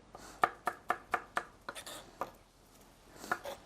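Vegetables, onions and celery among them, being diced into centimetre cubes with a knife on a board: a fast run of six or seven crisp close chops, then a few more scattered ones after a pause.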